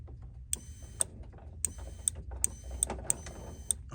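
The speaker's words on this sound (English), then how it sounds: "you can hear the fuel pump relay come on" Several sharp, distinct clicks from the fuel pump relay on a gas EZGO TXT golf cart, spaced irregularly over a low background hum, with no one talking.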